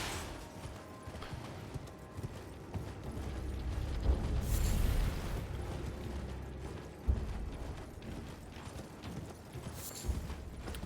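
Horse galloping under a rider in the video game Elden Ring, a soft rhythmic clopping of hooves mixed with creaks and mechanical clicks, fairly quiet with a few sharper knocks.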